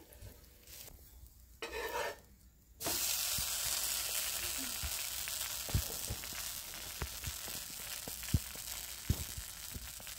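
Sponge dosa made from fermented batter sizzling steadily on a hot pan over low gas, a close, even hiss with occasional soft clinks of a utensil after a brief quieter start.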